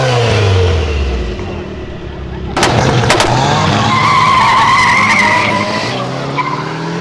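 A VW Gol 4x4 slides sideways on a track with a loud, close roar of engine and tires, and a sudden burst of skidding noise midway. Faint voices can be heard underneath.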